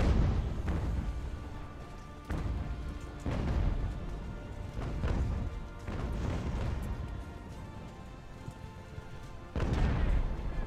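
Cannon fire in the naval strategy game Ultimate Admiral: Age of Sail, with a series of heavy booming blasts spaced a second or two apart, each decaying into rumbling battle noise.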